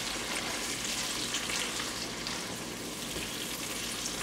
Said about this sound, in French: je viens de mettre notre tomate broyée et je vais juste mélanger